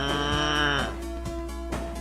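A cow in the game Exile lets out a drawn-out, tonal moo that slides downward, then fades into a lower, steady drone with faint soft thumps.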